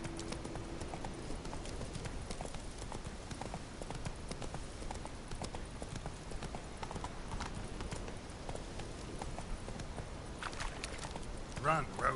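A horse gallops in the video game The Witcher 3, its hooves clip-clopping in a steady rhythm with game music behind them and a voice speaking near the end.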